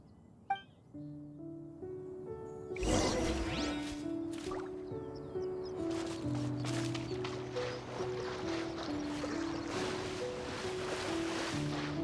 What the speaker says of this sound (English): The water's pretty deep over there! Quick, swim to the very center!